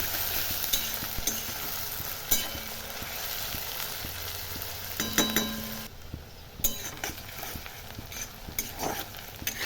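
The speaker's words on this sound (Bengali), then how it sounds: "তো এখানে তেল গরম হয়ে গেছে, পেঁয়াজটা দিয়ে দেবো। পেঁয়াজটাকে এইভাবে লেড়ে ভালো করে একটু ভেজে নেবো এইভাবে।" Onions fry in hot oil for a Bengali-style duck curry, a steady sizzle under scattered clinks and scrapes of a utensil stirring them in the pan, close by with no voices.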